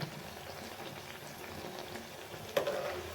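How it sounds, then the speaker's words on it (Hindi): Battered eggplant baigani fritters deep frying in hot oil, a soft steady bubbling sizzle throughout with one brief louder splash near the end, no voices. "तो इसे थोड़ा मैं डीप फ्राई इसलिए खरा खरा कर रही हूँ"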